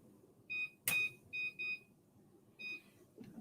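A kitchen timer is set for baking in the oven: a few short, high electronic beeps come in separate presses, quiet and close against a soft background hum.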